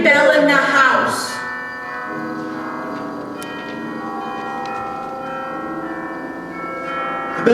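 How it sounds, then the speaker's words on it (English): Every bell in a house rings out loudly together with sustained, overlapping tones that hang and shimmer, preceded by a brief clanging burst at the start. "soon it rang out loudly. And so did every bell in the house"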